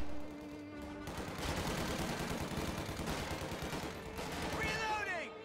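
Sniper rifle fire in a real-time strategy game match, steady game battle noise with repeated shots popping over dense background combat, a commentator talking over it throughout.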